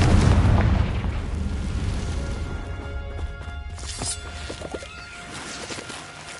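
A Confringo fire spell explodes in the video game Hogwarts Legacy: a loud, booming blast at the start that rolls off into a long, rumbling decay, with scattered crackles and debris-like hits trailing behind.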